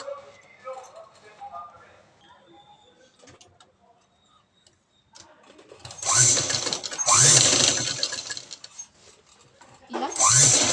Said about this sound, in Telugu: దీన్ని ఇప్పుడు ఇలా ఫోల్డ్ చేసుకొని స్టిచ్ చేసేసుకోవాలి.